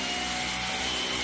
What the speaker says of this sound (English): So I'm going to turn my vacuum on.